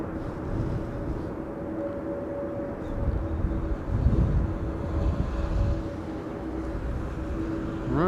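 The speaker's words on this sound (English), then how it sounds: "flight 1002 is coming in from London Heathrow, A321neo" An Airbus A321neo arriving at Amsterdam Schiphol on a windy day gives off a steady engine drone with a clear sustained whine, mixed with low rumbling wind noise that swells briefly midway.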